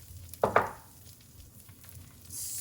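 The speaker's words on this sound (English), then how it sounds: "And then we're gonna toast our rice, our short grain rice" Short grain rice poured and toasted in a pan with a little fat, a brief rattling clatter near the half-second mark followed by soft sizzling and stirring, with a brighter hiss rising at the end.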